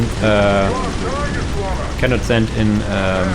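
Mortar platoon shells pound the ground in the Dawn of War Unification mod, Death Guard against Death Korps of Krieg, a dense loud rumble of blasts beneath continuous game voices and tonal unit chatter.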